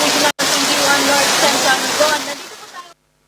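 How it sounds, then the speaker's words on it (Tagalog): Heavy rain pours steadily during typhoon Carina flooding, a dense, loud hiss like a torrent that holds for nearly three seconds, dips briefly near the start, then fades and cuts off. "Grabing ulan."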